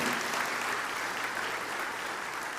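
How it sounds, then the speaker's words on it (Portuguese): A church congregation applauds together in a steady, dense wash of clapping that fills the whole stretch at an even level. "vamos aplaudir ao Senhor pela vida da Maria Cândida"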